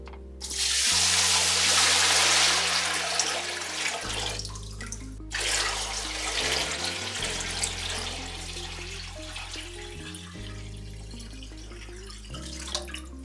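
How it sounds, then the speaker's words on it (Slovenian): Water poured into a container in a long steady rush, pausing briefly around the five-second mark and then continuing, with background music running underneath throughout. "Po moje prvo, kar bomo naredili, je, da vlijemo vodo."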